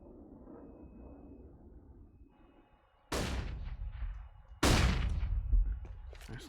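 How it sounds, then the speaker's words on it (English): Two sharp, loud bangs from a flashbang grenade in a Counter-Strike match, each a sudden burst with a ringing tail, following a stretch of quiet game ambience. "Nice little flashbang set up there."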